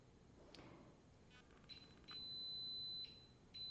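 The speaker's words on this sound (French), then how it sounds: "excusez-moi pour le bip" Electronic beep tones cut through a quiet indoor room, a sustained high pitched tone sounding twice with short pauses and a faint earlier chirp, fairly soft and alone without talk.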